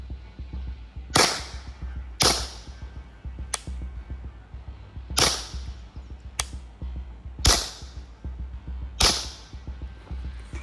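Seven sharp, muffled shots from a suppressed .22 rifle firing Winchester 45 grain Super Suppressed ammunition, at uneven intervals, each a quick crack with a short tail, over a steady low outdoor rumble.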